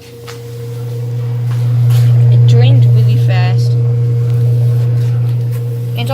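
A washing machine motor runs without pause, a loud, steady low hum close by with a faint mechanical whine above it and some brief, indistinct background sounds.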